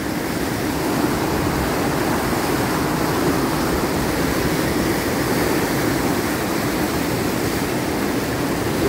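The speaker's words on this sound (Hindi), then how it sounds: "काफ़ी बढ़िया पानी है भाई और बहाव भी काफ़ी तेज़ है पानी का" The fast-flowing Sheshnag river rushes loudly and steadily close by, a continuous broadband roar of water with no pauses and no voices over it.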